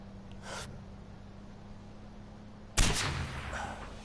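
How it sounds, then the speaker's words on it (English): Silenced sniper rifle shots from the Far Cry 4 video game, heard as two muffled shots. The first is soft and brief, and the second, louder one is followed by a short fading tail over a low steady hum. "With my trusty silenced sniper rifle."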